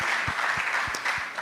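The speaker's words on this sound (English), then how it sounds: "let's give a round of applause to all the entrepreneurs in the house" Audience applause at a Women in PR event for entrepreneurs, a steady wash of clapping at moderate distance with a few sharper claps, no voices.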